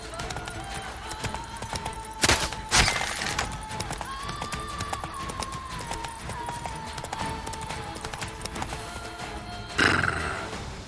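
A horse in The Witcher 3: Blood and Wine neighs and whinnies as its hooves clip-clop, with sharp crashing bursts near the start and end over a steady game background.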